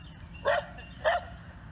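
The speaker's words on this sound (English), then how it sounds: "she starts barking at Rye like, hey, are we still going to play?" A dog barks twice in short, separate bursts about half a second apart while playing with another dog, close and clear over a quiet background.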